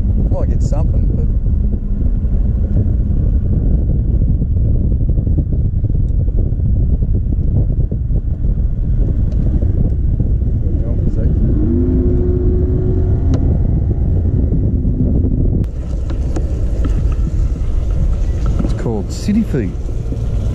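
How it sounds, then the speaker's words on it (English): Loud, rumbling wind buffets the microphone nonstop on the Hawkesbury River while bream fishing, a heavy low roar throughout with faint background sounds barely poking through. "the wind will be too windy out here"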